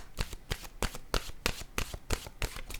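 Playing cards are shuffled and drawn in a quick rhythm of about a dozen crisp riffling snaps, close and clear, with no talking.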